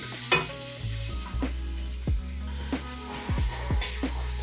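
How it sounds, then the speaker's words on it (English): Onions and butter sizzle and crackle in a pan for soup, with a steady close frying hiss broken by several sharp clinks and scrapes of a spoon stirring against the pan. "I'm gonna go ahead and add me a little bit of butter along with my onions."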